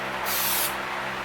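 High-temperature automotive spray adhesive hisses briefly from an aerosol can during a Jaguar door panel repair, one short steady burst heard close up.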